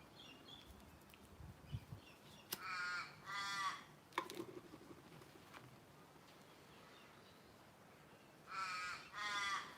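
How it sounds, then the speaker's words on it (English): Crows caw in the Australian bush in two bursts of repeated harsh calls, one early and one at the end, moderately near and alone over a quiet outdoor background with a few faint knocks. "Them just crows talking."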